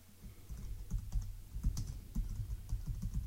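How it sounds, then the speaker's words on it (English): Close, quiet clicking of a computer keyboard as someone types a short phrase, with irregular quick keystrokes spread across a few seconds and no voice. "We'll type double identity and click OK."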